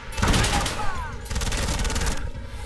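Two close, loud bursts of rapid automatic gunfire in a video game, split by a short pause, with a voice speaking briefly during the shooting.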